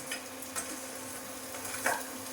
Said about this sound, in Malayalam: പിന്നെ നമ്മൾ സവാള ഇതിനകത്തേക്ക് ഇട്ട് കൊടുക്കുന്നു. അതോടൊപ്പം തന്നെ ഉഴുന്നുപരിപ്പ്